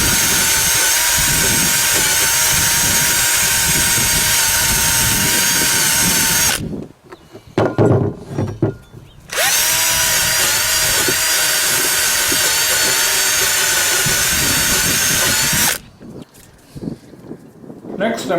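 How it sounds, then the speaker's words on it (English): A power wire wheel whirs loudly and steadily while cleaning the brake caliper journals on a 2011 Chrysler 200, cutting out briefly in the middle and then running again. "I'm going to take a wire wheel and clean the journals"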